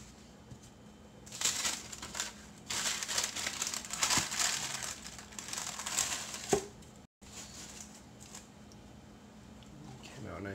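Parchment paper crinkles and rustles for several seconds as a sourdough loaf is turned out onto it, close and moderately loud, with a brief dropout and quieter handling afterward.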